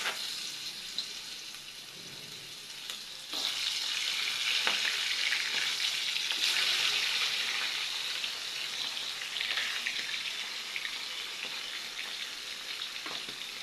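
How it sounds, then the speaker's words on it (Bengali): Rohu fish heads frying in hot oil in a kadai, a dense continuous sizzle that grows louder and stays steady, heard close up with no talking. "এখন এক এক করে মাছের মাথা দিয়ে দিব"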